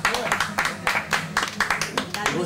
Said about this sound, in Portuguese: Uma salva de palmas para o nosso Brito!